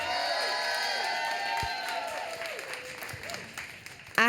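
Cheering and applause from an audience at a Boston poetry event, with shouts and whoops sliding over steady clapping that eases off, then a sudden loud burst near the end.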